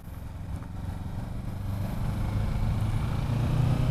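A 2017 Kawasaki Ninja 650 motorcycle engine pulls steadily under throttle, its low drone rising in pitch and growing louder through the whole run, close to the microphone with no talking.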